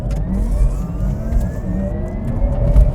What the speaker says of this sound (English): '20 Porsche Taycan Turbo S with launch control.